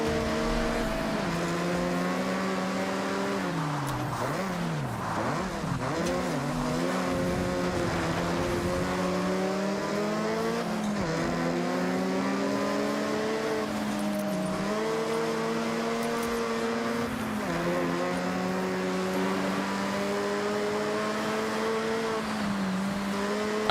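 Race car engines in Forza Horizon 6 on a wet course, a continuous revving drone that rises and falls through gear changes, loud and close, with faint tire squeal and no talking.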